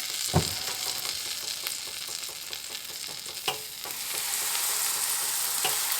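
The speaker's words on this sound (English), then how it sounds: "When it comes to frying your pancakes, you can use whatever kind of oil or whatever you'd like." Steady frying sizzle of pancake batter in butter in a hot pan, a continuous crackling hiss with a few soft clicks and knocks, close by, no talking.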